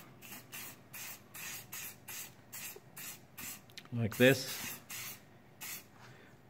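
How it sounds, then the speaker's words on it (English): Repeated short hissing bursts from an aerosol can of gasket sealant sprayed onto a head gasket, evenly spaced and close, with a brief spoken remark in the middle. "spray this on."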